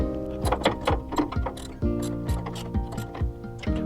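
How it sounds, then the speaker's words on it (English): A wrench tightening Loctite-coated screws on the weather protection hood of a laser measurement sensor, with repeated close ratcheting clicks and metallic mechanical turns in an uneven rhythm. "There is Loctite on the screws, so it's advisable to use this wrench all the way through."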